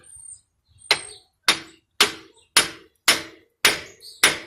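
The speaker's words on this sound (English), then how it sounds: "Hammer this out." Repeated hammer blows drive out the CV axle on a 1996 Honda Civic DX, seven sharp metallic strikes landing at a steady, roughly half-second rhythm, close and loud with brief silence between each hit.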